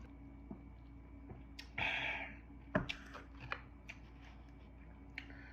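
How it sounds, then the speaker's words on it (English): Crisp crunches from biting into a thin crust Domino's pizza: a short, louder crackling bite near the middle, a sharper snap soon after, and a few quieter chewing clicks in a quiet room. "I like thin crust, that crunch."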